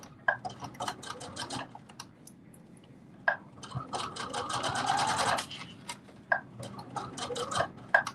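A sewing machine back stitches a fabric mask in short, rapid, close bursts of chattering needle action, separated by brief pauses and small clicks. No one speaks.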